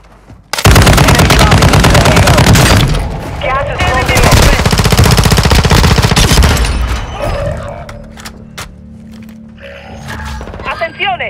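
Automatic weapons fire in the Call of Duty: Modern Warfare II game: loud, sustained, rapid bursts that run almost continuously and then taper into scattered shots, with battlefield voices mixed in underneath.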